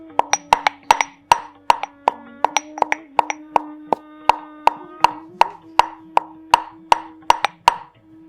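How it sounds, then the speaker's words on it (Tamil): Long pepper and spices pounded into powder in a mortar, a steady series of sharp thuds about twice a second, close and loud with no talk. "இதை நல்லா பொடியாக அரைச்சிக்கிறலாம்."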